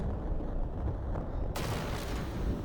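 A fire blast explosion from the video game Final Fantasy Tactics at Fort Zeakden, a loud, sustained rumbling boom whose crackling burst flares sharply partway through and keeps roaring with no voices over it.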